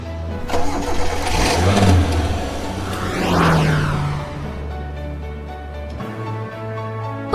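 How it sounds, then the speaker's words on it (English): A red car's engine cranks and catches, then revs up and settles, loud and close with no talking. "Red car."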